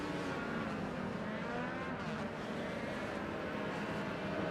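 Legends race car engines roar continuously in iRacing at the New Hampshire Legends Oval, a dense sustained drone of several cars at speed behind the pace car, loud and steady with no voices.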